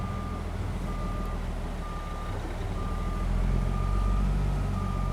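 Reversing beeps from a Peterbilt 389 log truck backing up with an articulated logging trailer in a truck-driving simulator, sounding as a steady, evenly spaced series of tones over a constant low diesel engine rumble.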